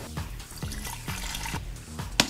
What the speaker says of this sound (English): Now you're pouring it back and forth.